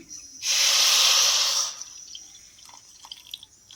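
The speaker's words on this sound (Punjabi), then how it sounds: "ਇਹਦੇ ਵਿੱਚ ਅੱਧਾ ਕੌਲੀ ਪਾਣੀ ਦੀ ਪਾ ਦੇਣੀ ਹੈ" Half a bowl of water is poured onto jaggery in a pan on a gas stove to make syrup: a steady, close splashing rush for just over a second, then quiet with small clinks and drips.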